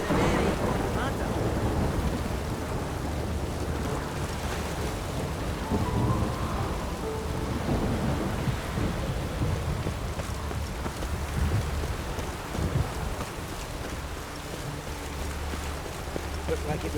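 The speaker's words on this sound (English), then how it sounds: "Looked like it would rain, and here it is." Steady heavy rain pours throughout in the video game Witcher 3, with low rolls of thunder rumbling underneath and a voice speaking faintly at times.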